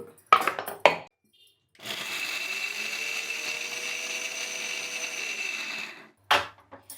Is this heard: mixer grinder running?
yes